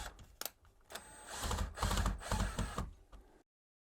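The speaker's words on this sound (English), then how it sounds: "We've got our two screws aligned and we're just going to secure them into the junction box." Screws being driven into an electrical junction box while a Leviton D26HD smart dimmer switch is mounted, giving a close, busy run of mechanical rattling and clicking bursts that swell in the middle and stop abruptly.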